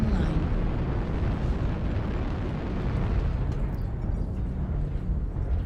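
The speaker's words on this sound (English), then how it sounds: "Target spotted. Target spotted. Airstrike online." Airstrike explosion in a mech combat video game: a sustained, roaring blast with dense low rumble filling the whole stretch, loud and continuous, with game voices faintly mixed in.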